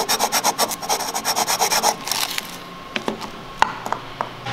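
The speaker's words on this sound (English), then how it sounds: "sand the inside of the stock shroud to fit the projector" Sanding the inside of a plastic stock headlight shroud on a 2006-2013 Chevrolet Impala, about two seconds of quick rhythmic rasping strokes up close, followed by scattered light scrapes and taps.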